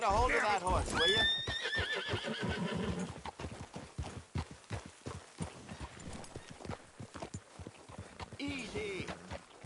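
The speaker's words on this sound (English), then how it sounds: "get a hold of that horse, will you?" In Red Dead Redemption 2, a horse whinnies loudly, then hooves clip-clop in a quick rhythm, with a voice speaking briefly over the hoofbeats.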